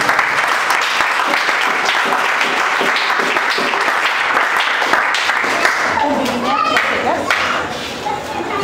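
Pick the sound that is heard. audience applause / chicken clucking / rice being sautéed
audience applause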